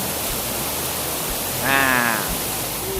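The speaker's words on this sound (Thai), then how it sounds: "ตอนนี้เนี่ยทานน้ำตกมันเป็นน้ำตกวัดเขานะครับ" Wat Khao waterfall in Phang Nga pours in a steady broadband rush of falling water, constant and fairly loud throughout, with a brief whistle-like tone rising over it midway.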